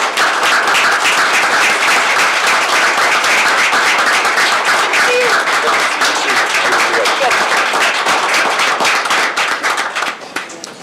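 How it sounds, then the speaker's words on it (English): A legislative breakfast crowd gives Christy a big, sustained round of applause, loud and close, with dense clapping that holds for ten seconds and only thins out at the very end. "Big round of applause for Christy."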